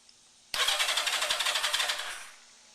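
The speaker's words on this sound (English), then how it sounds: "Starter motor works." The starter motor cranks on a 1988 Yamaha Radian motorcycle, a close, loud, buzzing whir with a fast pulsing rhythm lasting about one and a half seconds before cutting off, no engine catching and no talk.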